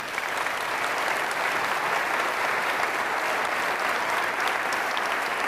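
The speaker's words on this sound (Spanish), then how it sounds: "Denme un aplauso a ella," A congregation gathered for a spiritual lesson breaks into sustained applause, an even, dense patter of many hands clapping that holds steady at moderate loudness throughout.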